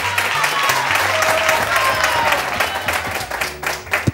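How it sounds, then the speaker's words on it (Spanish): Studio audience applause on a Spanish-language TV show, loud continuous clapping from a crowd that swells and then tapers off, with a presenter's voice partly over it. "¡Un aplauso para ella!"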